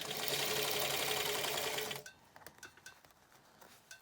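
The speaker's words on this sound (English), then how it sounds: "Just putting a stay stitch in there to make sure it holds in place" A sewing machine runs a steady stay stitch on a shaped fabric face mask for about two seconds, then stops, leaving faint small clicks and handling noises.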